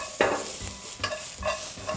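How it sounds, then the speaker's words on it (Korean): Carrots stir-fried in cooking oil with sesame salt hiss and crackle up close, broken by about four scraping strokes of a spatula through the pan. "식용유가 빠르게 움직이면 당근을 넣고 깨소금 티스푼으로 하나 넣어주신 후에 당근을 볶아주세요"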